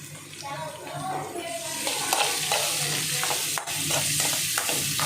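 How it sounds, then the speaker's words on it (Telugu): Chopped onions sizzling in hot oil in a wok with scraping and stirring throughout, the frying hiss loud and close, scattered utensil knocks punctuating it. "ఇప్పుడు ఫ్రై చేసుకోవాలి మొత్తం ఉల్లిపాయ ముక్కల్ని"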